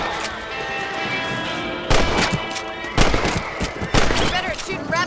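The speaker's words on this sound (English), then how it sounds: "You're better at shooting rabbits than outlaws, I see." Rifle shots at rabbits in the western video game Red Dead Redemption. Three loud, sharp gunshots ring out about a second apart, with echoing tails, over an ambient game soundscape with a steady tonal hum.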